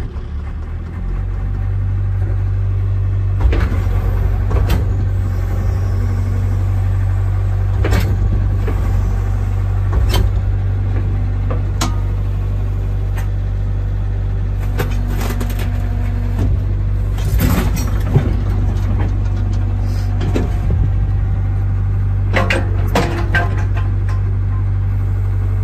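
A Caterpillar E70B excavator's diesel engine idles with a steady, loud low rumble throughout, punctuated by occasional clunks and rattles from nearby movement.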